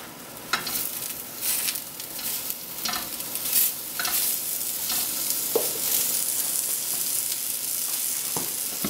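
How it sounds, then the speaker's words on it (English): Onions sizzle steadily on low heat in a pan during deglazing, a continuous close hiss with occasional stirring scrapes and clicks, no talking. "So we'll put our onions in here. We'll start it off on low heat."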